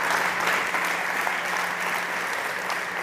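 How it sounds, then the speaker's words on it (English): Audience applause at a startup conference stage event, a steady, dense wash of clapping filling the hall throughout, loud and continuous with a faint voice underneath. "Big applause to Carlos."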